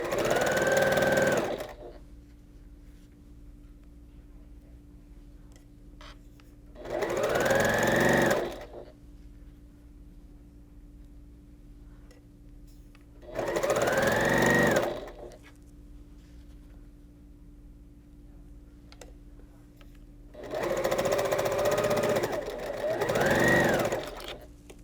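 A sewing machine chain piecing quilt blocks runs in four separate bursts of rapid stitching, each a couple of seconds long, close and clear, with a quiet steady hum between them and no talk.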